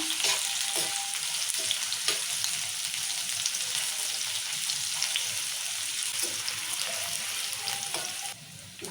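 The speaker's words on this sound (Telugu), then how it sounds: "ఇక మిరపకాయలు ఉల్లిగడ్డలు ఇట్లా ఎర్రగా వేగినాయి" Onions and chillies frying in oil in a pan, a steady dense sizzle throughout with occasional light stirring knocks, close and fairly loud.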